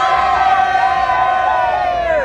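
Convention crowd at SneakerCon LA cheering, whooping and shouting in a loud, sustained roar, with voices calling out over the din close by.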